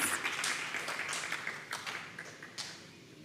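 Audience applause at a school graduation ceremony, a faint, distant wash of clapping in a large space with a few sharper claps standing out, fading gradually.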